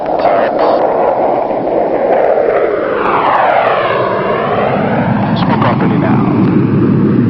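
An F-16 of the USAF Thunderbirds makes a maximum climb at an air show, its loud engine roar sweeping in pitch as it passes and pulls away, with a narrator speaking over it.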